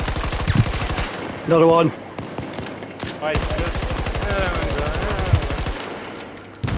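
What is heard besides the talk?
gunfire in video game Battlefield 2042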